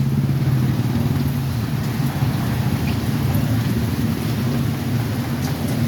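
Heavy rain pours down hard, a loud dense roar of drops hammering surfaces without a break, close and enveloping with no voices.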